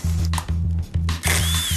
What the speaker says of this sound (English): is energized by the handheld bandsaw